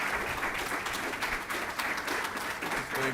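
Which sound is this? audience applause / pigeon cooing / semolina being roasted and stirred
audience applause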